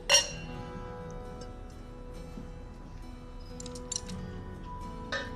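A bright glass clink rings out at the start, followed by a few fainter clinks later over a steady low room hum.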